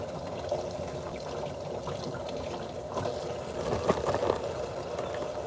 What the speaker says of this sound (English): we're just giving it a light rinse